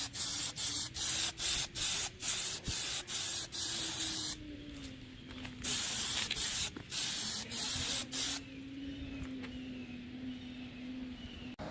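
Spray paint goes on as a second coat in a run of short, close hissing bursts followed by longer sustained sprays, with music playing faintly in the background.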